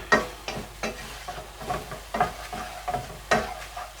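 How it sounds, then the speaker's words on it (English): Samosa filling sautéing in a pan, a low sizzle beneath repeated scraping stirs of a utensil against the pan at an uneven rhythm, close and alone with no talking. "Sauteing probably now for about 5 minutes"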